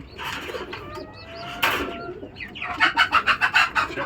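Imported racing pigeons coo close by in short, throaty bursts, ending in a run of rhythmic rolling coos, with no people talking.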